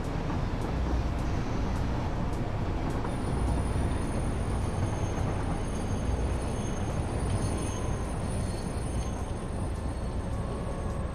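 Train in the game Satisfactory rolling along with a steady, dense rumble and continuous clatter, loud and unbroken throughout, with no voices over it.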